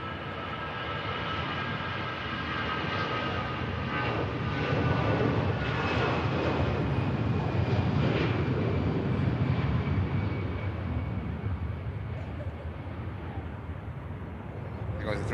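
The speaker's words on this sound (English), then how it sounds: "Here goes EasyJet, Copenhagen bound." An EasyJet Airbus A320 takes off from Manchester Airport, its jet engines building into a loud, broad roar that swells midway and then slowly fades into the distance, with a voice talking over it.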